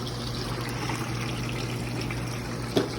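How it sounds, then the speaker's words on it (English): Rinse water running steadily through a deep fryer while its oil is being changed, a continuous close trickle and gush under a low pump-like hum, with one brief clunk near the end. "Water's running pretty good."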